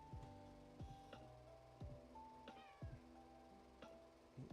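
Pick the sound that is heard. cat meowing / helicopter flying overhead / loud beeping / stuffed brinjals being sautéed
cat meowing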